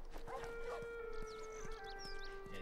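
Dogs howl in The Last of Us Remastered, with a drawn-out, wavering tone and some yips over quiet game ambience and faint taps.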